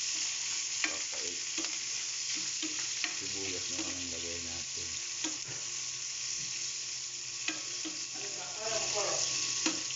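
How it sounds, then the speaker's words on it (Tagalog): Onions stir-fry with browned garlic in a pan, a continuous close sizzle broken by repeated scraping strokes of a utensil, and a brief faint voice partway through. "Ayan ang ating mekos-mekos lang natin para maluto agad na pantay ang sibuyas."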